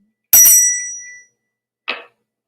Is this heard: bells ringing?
yes